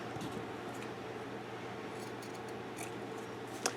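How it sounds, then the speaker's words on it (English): Scissors cut a paper strip for a handmade butterfly mini album, giving a few faint, crisp snips close by over a low steady background hum. "Let's cut a 6 1/4 inch strip off here."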